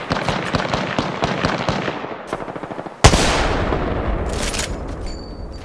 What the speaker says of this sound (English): I'm taking shots. Opening fire.